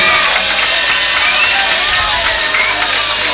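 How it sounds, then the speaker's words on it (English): A crowd at a street boxing match applauds and cheers for the losing boxer, a dense, loud and continuous wash of clapping and shouts. "A round of applause for the loser now."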